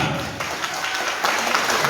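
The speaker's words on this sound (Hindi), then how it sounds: "सभी की तरफ से एक बार सबसे पहले जोरदार तालियां।" Dense, steady applause from a wedding crowd, a continuous wash of many hands clapping at close range.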